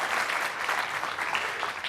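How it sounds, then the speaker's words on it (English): Sustained applause from an audience, steady dense clapping at moderate volume throughout. "Let's give them another round of applause."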